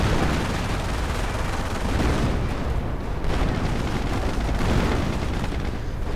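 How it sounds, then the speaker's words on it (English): Dense World War II artillery barrage in a strategy video game, shells falling on German infantry with a continuous, loud wash of booms and crackling gunfire that swells and eases over several seconds. "artillery going down right on the German infantry"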